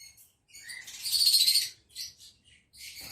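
Bright, high-pitched chirps of pale fallow lovebirds in short bursts, with a longer twittering run in the middle, fairly close against a quiet background.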